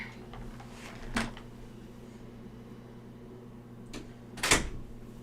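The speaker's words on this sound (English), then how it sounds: "let me close the door so he's not tempted" A door pulled shut in a quiet home, giving two short knocks or thumps a few seconds apart over steady low room hum with no talking.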